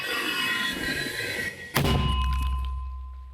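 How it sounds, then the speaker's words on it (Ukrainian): A sharp, heavy mortar blast cuts through steady background noise, followed by a deep low rumble that slowly fades away. "Постріл."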